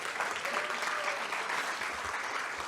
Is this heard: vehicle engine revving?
no